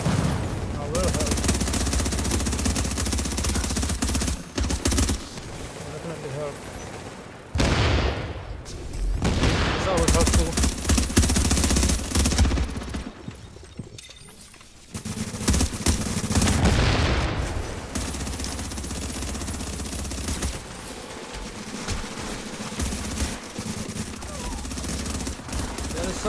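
Sustained heavy gunfire fills a firefight in The Division video game, dense automatic bursts running almost continuously with brief pauses, loud and close, with a voice talking over it at times.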